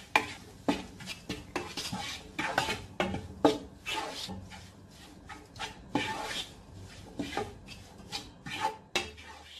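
Egg fried rice is tossed with soy sauce and vinegar in a pan, bursts of clattering and scraping stirs at an uneven rhythm, close by, with no talk over them.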